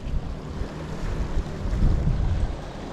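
Wind gusting over a lake at Ladybower during trout fly fishing, a loud close rumble of buffeting against the microphone with a broad hiss and no talking.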